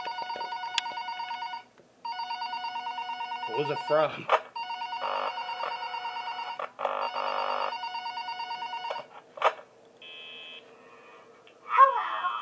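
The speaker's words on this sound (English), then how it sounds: "Oh, we get a phone call?" A phone rings repeatedly in the Five Nights at Powerpuff Girls horror game, with steady electronic ringing bursts separated by short gaps and a brief voice speaking over it.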